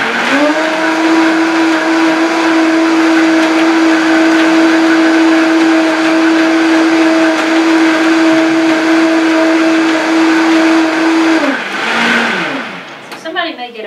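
A blender whirs steadily for about eleven seconds, crushing frozen berries into a smoothie with a loud, constant motor drone, then winds down and stops, followed by a brief clatter.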